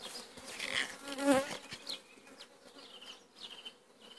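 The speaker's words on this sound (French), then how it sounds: "on a des abeilles." Bees trapped in a tap-trap hive trap buzz close by, a wavering insect drone that swells and fades as they move about inside, with no talking.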